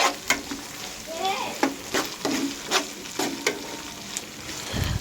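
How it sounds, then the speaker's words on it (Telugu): Ginger garlic paste fries in a pan for Telangana-style chicken curry, a soft steady sizzle with a spoon repeatedly scraping and stirring close by. "తర్వాత పచ్చివాసన పోయేదాకా వేయించుకోవాలి."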